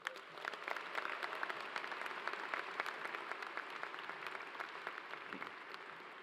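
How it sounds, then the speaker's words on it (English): Audience applause at an engineering school's undergraduate commencement ceremony, a sustained wash of many hands clapping that sounds somewhat distant in a large hall and holds steady throughout. "Let's give them a quick round of applause."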